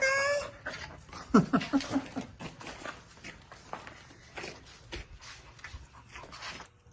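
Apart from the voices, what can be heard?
dog whimpering at a dog park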